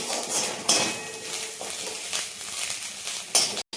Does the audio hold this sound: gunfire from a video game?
no